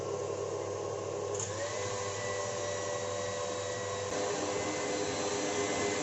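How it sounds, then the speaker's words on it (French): An electric mixer whirs continuously at steady speed while whipping egg whites into meringue, its motor hum even and unbroken, close by with no voices. "je vais monter les blancs d'œufs en neige"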